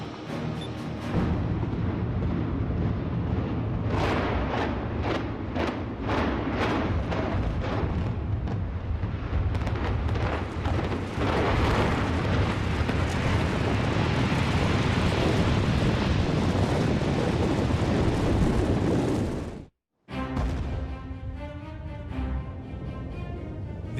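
Explosive implosion of a reinforced concrete tower, a rapid string of sharp blasts that swells into a long, loud, roaring collapse rumble, briefly cut off and then continuing with lingering debris noise.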